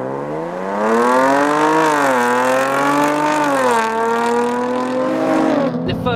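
A Jaguar F-Type sports car on a drive, its engine droning close and steady, rising in pitch as it accelerates through two gear changes before easing off near the end.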